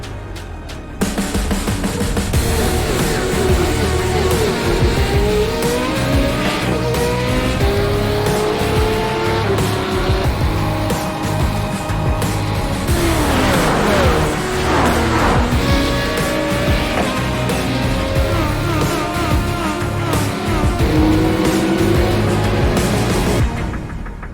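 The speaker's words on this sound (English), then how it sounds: "This is the original esport racing game. This is iRacing." Race cars in the iRacing sim at Michigan, a loud, sustained blend of high-revving engines sweeping past in overlapping waves, with tire squeal and shifting pitch as cars accelerate and pass, no voices.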